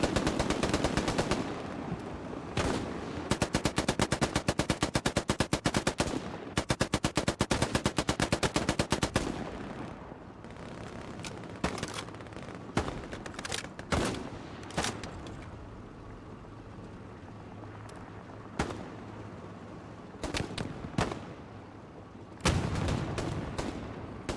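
Light machine gun fire in the World War II shooter Hell Let Loose, played online: long rapid automatic bursts up close, then scattered single shots and shorter volleys, with some distant battlefield gunfire in between.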